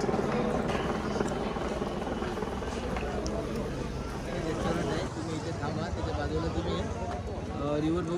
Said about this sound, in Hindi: इथून स्टार्ट होणार हेलिकॉप्टर